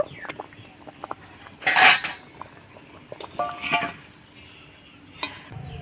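A pot of boiled raw mango is lifted off the stove, with sharp metallic clanks and scrapes of the pot and utensils in bursts, a loud clatter early on, then lighter knocks and a final clink, close and without talk.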